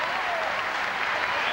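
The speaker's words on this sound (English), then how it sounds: "The crowd loving every moment of it" A crowd at a 200 metres breaststroke swimming heat applauds and cheers, a dense, steady wash of clapping heard throughout.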